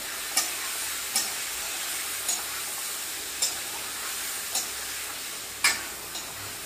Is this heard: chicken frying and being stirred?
yes